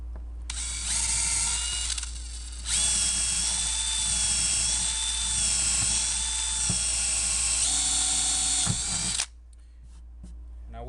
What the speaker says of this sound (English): You don't want to just start drilling, screwing shit into your car and not realizing where you're drilling it to.